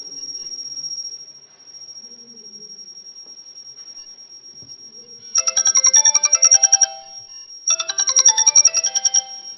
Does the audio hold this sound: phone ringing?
yes